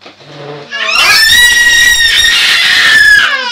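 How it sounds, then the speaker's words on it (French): A person screams loudly and shrilly in a home kitchen during baking, a sustained high-pitched cry lasting about two and a half seconds after a brief softer vocal onset. "Arrête de crier."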